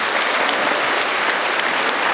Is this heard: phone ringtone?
no